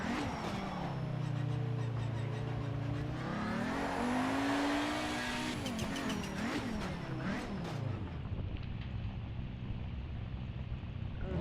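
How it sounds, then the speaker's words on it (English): A race car engine with a whining turbo in Project Motor Racing, revving up and down through gear changes at high pitch, loud and steady, with the whine fading as the car settles into a lower drone toward the end. "How can you not hear this thing's turbo?"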